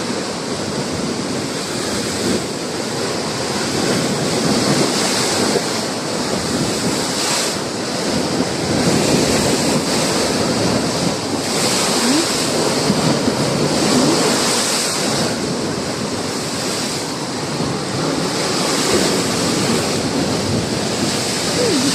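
Strong ocean waves surge and crash continuously against a building on the shore, a loud roaring wash of surf with heavy wind noise buffeting the microphone, no voices.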